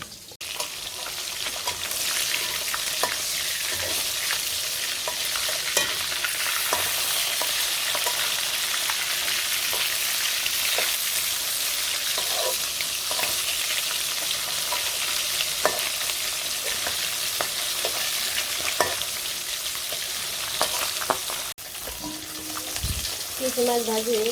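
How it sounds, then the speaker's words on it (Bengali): Small sarputi fish frying in hot oil in a village kitchen, with a steady dense sizzle and crackle throughout, occasional sharp spatters and pops, and a few clinks of stirring near the end. "মাছ মাছগুলো ছিটাইতেছে সেজন্য ভয় করে"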